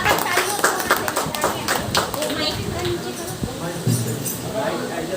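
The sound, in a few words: audience applause after a devotional bhajan song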